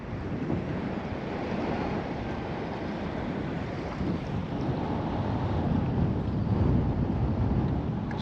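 Strong wind gusts buffet the microphone over shallow open water during a fishing trip, a loud continuous rushing roar with lapping water beneath and no talk.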